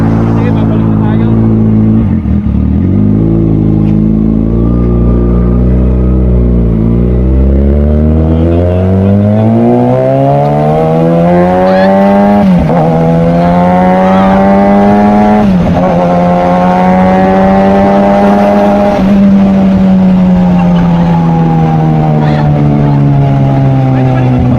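A Kawasaki Ninja ZX6R engine roars loud and close while riding, revving up and down through gears with rising and falling pitch under constant wind rush.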